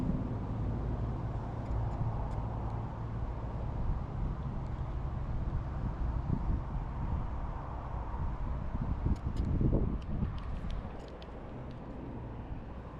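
Wind blows across a pond during bass fishing, a constant low rumbling buffet against the microphone that swells briefly near the end, no voices.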